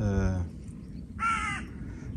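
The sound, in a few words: bird calling outside near the vegetable garden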